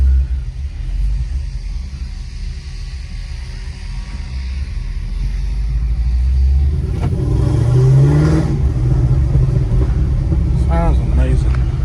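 A supercharged Chevrolet SS rumbles along under way, a deep steady engine drone that swells as it pulls harder, with a voice now and then.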